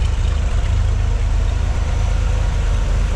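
Deep, steady idle of a 1967 Corvette L79 engine rumbling through its dual exhaust, close and loud, with a low throbbing pulse and no talking.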